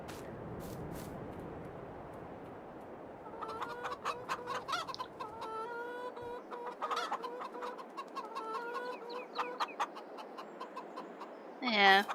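Chickens clucking at a chicken coop in Farming Simulator 22, repeated clucks and short calls in quick bursts, moderately close, with a person talking faintly at times and a louder noise at the very end.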